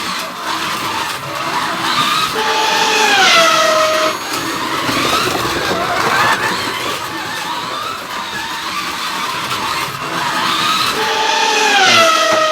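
A Scalextric Sports Digital slot car laps a track straight out of the box, its small motor whining loudly and steadily with pitch rising and falling as it rounds corners, and electronic system sounds alongside.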